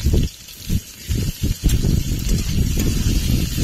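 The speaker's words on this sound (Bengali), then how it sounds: "পেঁয়াজ আর টমেটোটা ততক্ষণই ভাজতে হবে যতক্ষণ পেঁয়াজটা লাল না হয়" Chopped onion and tomato sizzle while frying in a pan for a fish and potato curry, giving a steady close hiss with some brief crackling bursts and no talk.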